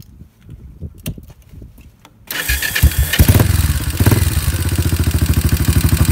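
A Yamaha SR250 motorcycle with carburetor, intake and exhaust set up is started after some faint handling noises, then settles into a loud, steady thumping idle close by.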